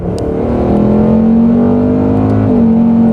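A 2024 Ford Mustang Dark Horse engine pulls hard under acceleration, a loud, steady rising drone heard from inside the car with one brief gear change near the end.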